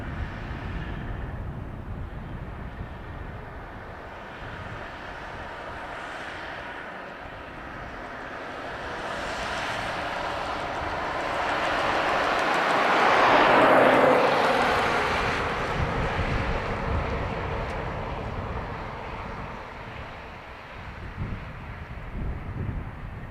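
A Turkish Airlines jet taking off from runway 28 right at Dublin Airport, its engine roar building steadily to a peak around the middle and then easing off, heard from a distance with wind noise across the microphone and no talk.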